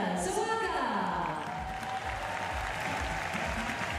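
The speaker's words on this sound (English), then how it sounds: "A warm applause from all of the athletes on the podium and indeed from the Champ de Mars arena" A large arena crowd at the Champ de Mars applauds para judo medalists on the podium, a broad continuous wash of clapping heard from a distance, with a commentator's voice over it early on.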